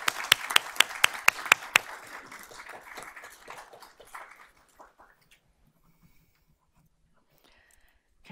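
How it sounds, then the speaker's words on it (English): Audience applause at a board of trustees meeting: a few sharp claps open a burst of clapping that fades out over several seconds, leaving a quiet room. "Let's give them another round of applause."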